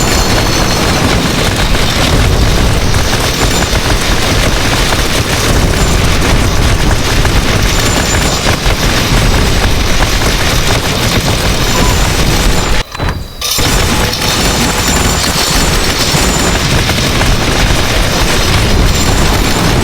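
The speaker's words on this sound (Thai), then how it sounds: "ระเบิดเต็มจอเลย" Dense explosions fill the screen in the video game Bad 2 Bad Apocalypse, a loud continuous barrage of booms and bursts layered with gunfire that cuts out for a split second before pounding on.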